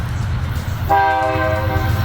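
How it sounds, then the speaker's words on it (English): A train horn sounds as a train approaches, a loud sustained multi-tone blast that starts about a second in and holds steadily to the end over low rumbling ambience. "the train is finally coming"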